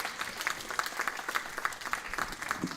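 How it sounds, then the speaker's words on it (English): A crowd at a gurukula gathering gives a round of applause, a fairly small group clapping nearby with an uneven, pulsing rhythm of overlapping hand claps. "Give everybody a big round of applause"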